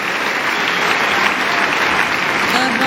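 Steady, dense applause from a Wimbledon 2018 tennis crowd rooting for Hsieh Su-wei against Halep, a loud, even wash of clapping that fills the whole moment.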